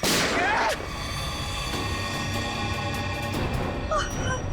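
A single loud gunshot bursts out at once in a tense scene from a Hindi crime drama, then fades into a long, ringing tail. A faint voice is heard near the end.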